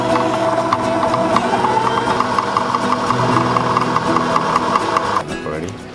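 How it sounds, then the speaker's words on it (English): A fly fishing reel clicks rapidly and steadily as backing line is wound onto it for river trout gear, a close, continuous ratcheting that stops abruptly near the end. "we're going to load the backing onto the fly reel"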